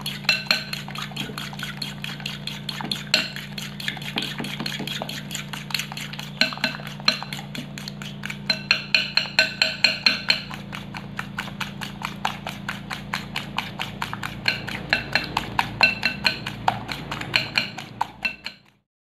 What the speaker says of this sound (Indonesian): Dikocok pakai garpu sampai dengan berbuih.